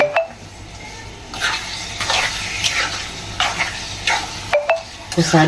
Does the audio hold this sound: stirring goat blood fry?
yes